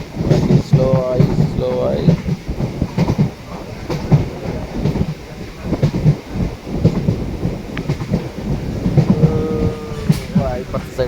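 A train slowing as it nears a railway station: close rumbling with rhythmic clattering from the wheels over the track, running steadily under someone talking.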